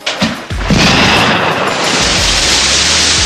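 A grenade goes off in a war film scene: a loud, sustained blast with a deep boom and broadband roar that fills the whole clip after a couple of sharp initial thuds, no talk.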